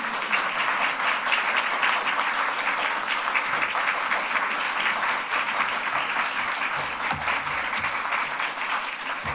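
Audience applause welcoming a speaker at a lecture on institutional resilience: dense, steady clapping from a sizeable crowd fills the room without pause and holds an even level throughout.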